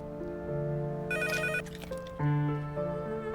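A telephone bell rings in bursts, fairly loud and close, with a bright electronic trill over steady low background music in an Urdu-dubbed Turkish drama scene.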